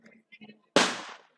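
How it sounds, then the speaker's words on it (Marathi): A firecracker bursts with one sharp, loud crack and a short crackling tail, going off at a local premier league cricket final after faint crowd chatter and voices. "फटाक्यांचा आधीपासूनच आवाज"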